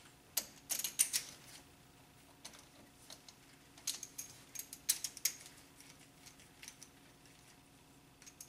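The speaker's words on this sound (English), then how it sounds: "Alright, torque wrench" A torque wrench ratchets on the cylinder head bolts of a 2000 Honda Civic during a head gasket job, making quiet, close bursts of rapid clicking separated by short pauses.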